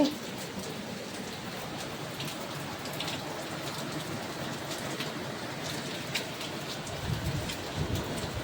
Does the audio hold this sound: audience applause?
no